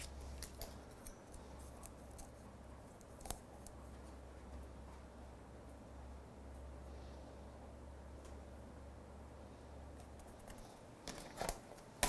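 Scissors cut out a paper leaf embellishment with a series of faint, uneven snips over a low, steady hum.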